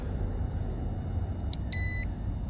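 A short pair of electronic beeps from an RC car's speed controller, a 1/14 Typhon GROM BLX, clear tones above a steady motor-like hum, arriving near the end of the clip.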